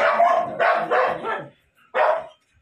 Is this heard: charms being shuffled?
no